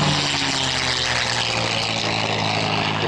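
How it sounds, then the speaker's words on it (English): A P-51 Mustang warbird makes a pass at an air show, the propeller aircraft engine roaring loud and steady throughout with no voices over it. "And of course, the beautiful P-51"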